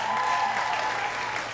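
A comedy club audience claps steadily through the whole short moment, loud and dense, with no talk over it.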